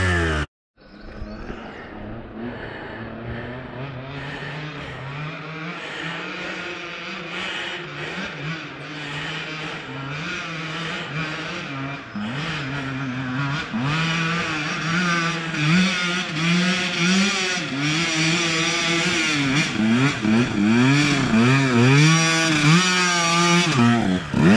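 A car climbs Mt Trashmore in third gear, its engine note rising and falling in repeated sweeping revs that grow louder over about twenty-five seconds, heard alone without talking.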